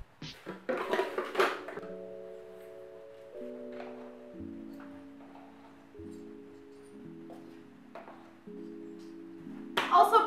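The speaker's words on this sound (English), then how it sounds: "First, I'm gonna measure all of my dry ingredients in the bowl." Dry muffin ingredients measured into a big mixing bowl, with scattered clinks, taps and scoops of utensils against the bowl, fairly quiet and close, set against long sustained tonal background music.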